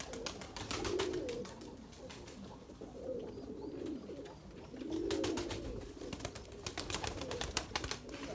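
Hungry, thirsty breeding pigeons coo in repeated low, soft bursts, with faint clattering and fluttering noises around them.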